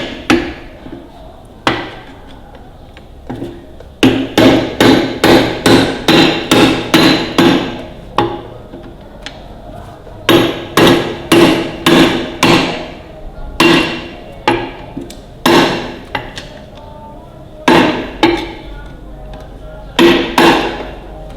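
A hammer strikes a steel punch to drive a key out of a part on a Ferguson TEA20 tractor, delivering sharp metallic blows in quick rhythmic bursts of six to eight, separated by short pauses, loud and close.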